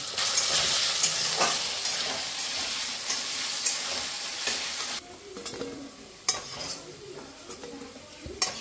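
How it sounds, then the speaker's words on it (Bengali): Salted potatoes fry in ghee in a pan, giving a continuous bright sizzle with repeated stirring scrapes and occasional sharp utensil knocks. The frying quiets a little partway through. "সবার প্রথমে আমি আলুগুলো ভেজে নেব।"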